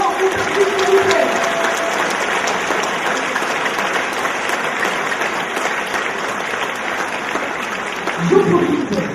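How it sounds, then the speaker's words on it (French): An audience at the Miss Orléanais 2014 pageant applauds loudly and steadily, a long, even wash of clapping with a voice heard briefly within it. "il faut encore une nouvelle fois les applaudir très très fort"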